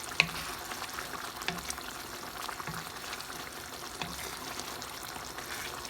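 Cabbage manchurian gravy cooking in a pan, a steady soft sizzle and bubbling with occasional gentle stirring scrapes, continuous and close with no voices.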